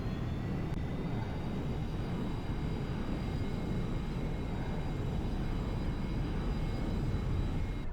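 Airplane taxiing in the X-Plane Mobile flight simulator game, a steady continuous engine drone with a faint high whine, constant and even throughout, no talk.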